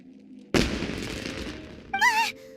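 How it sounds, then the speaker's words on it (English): Fireworks burst in the video game Genshin Impact: a sudden loud explosive crack followed by a crackling, fading rumble, then a short bright whistling flourish of game sound effects. "Was that an explosion?"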